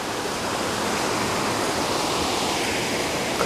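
Water rushes over a dam at a mill complex, a loud, steady broadband roar that stays constant throughout, with no voices.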